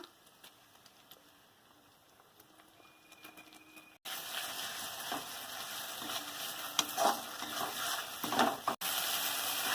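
Ginger paste sautéing in a pan with softened onions for a green jackfruit curry: a faint, low sizzle at first, then a louder, busier frying crackle with scraping stirs and an occasional sharp tick.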